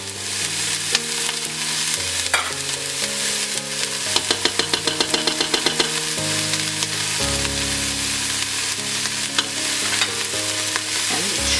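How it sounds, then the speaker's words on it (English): Onions and spices sizzle in a pan while a utensil scrapes and stirs them in quick repeated strokes, a steady close frying hiss for a Moroccan cinnamon date chicken dish. "we will add the rest of the spices and saute a little bit more"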